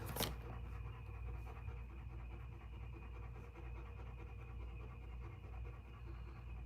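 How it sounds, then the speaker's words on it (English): A chubby dog panting hard on a hot day, a steady, quiet rhythmic breathing close by, faint and continuous with no talking. "He's panting so hard because it's so hot outside."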